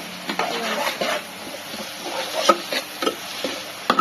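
Omelette curry cooking on high flame in a pan, close stirring scrapes and spoon clinks over a low sizzle, in an irregular rhythm, with no talk.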